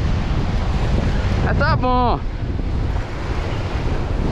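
An east wind blows at a coastal fishing spot, a loud, steady rush of wind buffeting the microphone, with someone speaking briefly in the middle.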